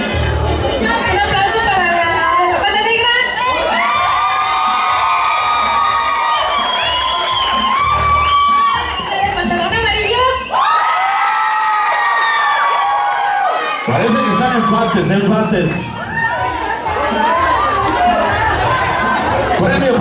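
Wedding guests cheer, whoop and chatter in a loud, lively crowd throughout, with children's shouts and babble mixed in and a brief lull near the middle before the cheering swells again.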